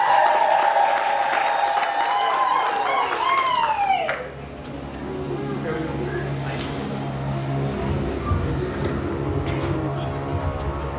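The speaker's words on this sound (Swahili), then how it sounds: "Jamani, makofi." Applause at Angel and Fabian's wedding ceremony, a broad crowd clapping that swells in after a stretch of voices and then carries on steadily as background noise to the end.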